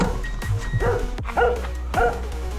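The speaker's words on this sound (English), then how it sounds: "We get greeted by a dog." A dog barks close by with a few short, sharp woofs and yips spaced about half a second apart, loud against a low outdoor rumble.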